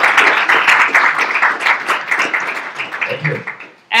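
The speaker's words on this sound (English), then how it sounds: "Can I have a round of applause?" An audience claps briefly at the close of a talk, a short burst of applause that thins out over a few seconds before a sudden loud sound at the end.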